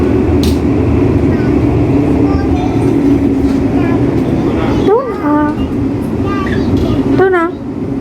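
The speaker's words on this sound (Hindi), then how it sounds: "and we are in train" Riding inside a moving train, with a loud, constant rumble of the carriage throughout, plus occasional squeals and tonal whines, and voices talking over it.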